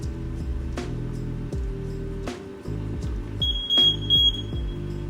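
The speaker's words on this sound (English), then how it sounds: "Based in the kitchen area, first is the heat alarm." A kitchen heat alarm is tested, giving a brief run of high, piercing electronic beeps near the end over steady background music.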